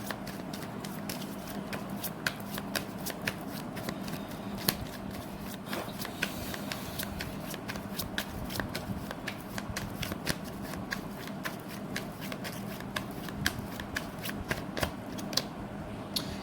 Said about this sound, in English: One card for that.